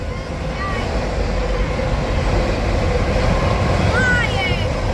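A Norfolk Southern freight train hauling auto racks behind a single locomotive rolls past nearby, a loud, steady rumbling roar with occasional high metallic squeals from the wheels.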